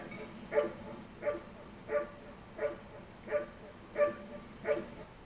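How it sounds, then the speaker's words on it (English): A prospect dog at a national championship gives a steady series of about eight evenly spaced, high-pitched barks, fairly faint and at a distance, with no other voices. "Now I want you to listen to the barking."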